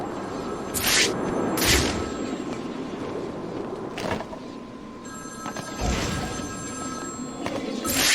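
A phone rings repeatedly in Batman: Arkham City, bursts of ringing recurring about every second amid a constant low game ambience, with no talk.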